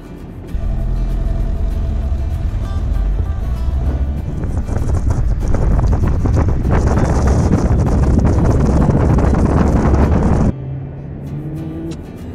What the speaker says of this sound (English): soft acceleration, traction control off, try to avoid any wheel spin